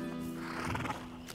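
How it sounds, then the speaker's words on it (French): A horse neighs in the video game A Plague Tale: Innocence, a single short whinny heard close and fairly clear with no talk. "un petit cheval"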